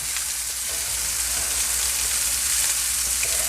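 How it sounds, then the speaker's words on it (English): A quartered yellow onion browns in a hot pan for pot roast, giving a steady, close sizzle and crackle of frying that runs evenly throughout without talk. "we're going to brown this onion a little bit, just to get a little extra flavor from our onion as well"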